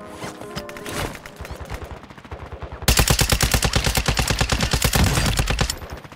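Rapid bursts of automatic gunfire from a military shooter video game set in Almazrah, starting with scattered shots and then swelling into a loud, sustained barrage of fast repeated reports.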